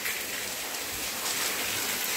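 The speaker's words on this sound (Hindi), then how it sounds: "बहुत दिनों के बाद बारिश," Heavy rain falls in a dense, steady hiss, close and constant throughout, with no voices over it.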